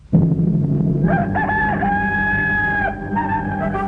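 A rooster crows from an old wartime newsreel soundtrack, one long drawn-out crow with rising and falling tones over a noisy, crackly background, loud and close throughout.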